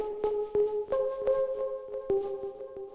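A plucky Vital software synthesizer preset plays a melody of short bright notes with sharp attacks, repeating in a steady rhythm and playing alone at a soft level.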